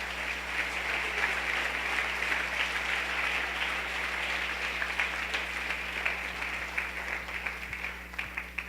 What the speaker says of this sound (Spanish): Denle un aplauso a nuestro Rey